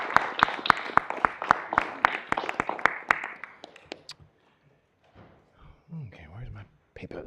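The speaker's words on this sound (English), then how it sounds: "A round of applause." A few people clapping at a board meeting, sharp distinct claps in a brisk run that thins out and stops, followed by quiet and then some speech.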